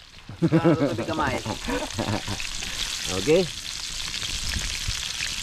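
Steady sizzling of fish frying in hot oil outdoors on a farm, a continuous hiss running throughout while a few people talk over it.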